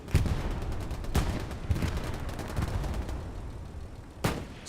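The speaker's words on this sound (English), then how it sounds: "Explosion happens over here to the left. That was a repair station." A repair station explodes amid a tank battle in the online multiplayer shooter Hell Let Loose. Sharp blasts and bursts of gunfire crack over a constant rumbling din, with the strongest bangs near the start, in the middle and toward the end.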